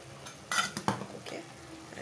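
A spoon scraping and clinking against a pan while coriander powder and other ground spices are stirred in, with two sharper metallic knocks among soft scraping, close and moderately quiet, no talking.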